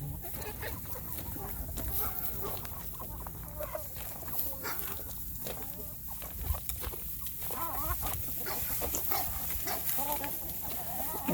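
Backyard free-range hens scratch busily through dry leaves, giving off a constant rustling crunch mixed with soft, scattered clucks and chatter nearby. The scene is steady and lively.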